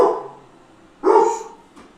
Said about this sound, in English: my dogs are going off again